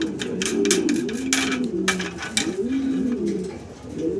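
Fillback pigeons coo repeatedly in low, rolling calls close by, mixed with scattered clicks and flutters in the background.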